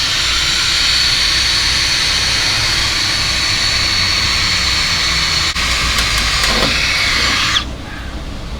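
A car wash vacuum roars loudly and steadily up close, a broad constant whine and rush that drops off abruptly near the end, leaving a quieter hum.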